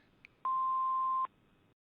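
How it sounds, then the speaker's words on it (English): Answering machine beep: a single clean, steady electronic tone lasting under a second, clear and isolated against a faint quiet background. "please leave your name after the beep"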